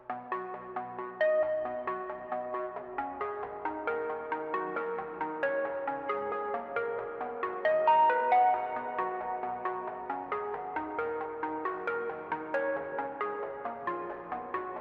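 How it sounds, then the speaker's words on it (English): A simple synth arpeggio from Omnisphere, part of an FL Studio trap beat, repeats a bright plucked note pattern in steady rhythm for about fifteen seconds, clear and alone with no voices. "next we just have a simple ARP from Omni"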